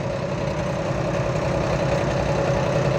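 A New Holland tractor engine idles at a steady, even rumble, running close and continuous throughout with no voices over it.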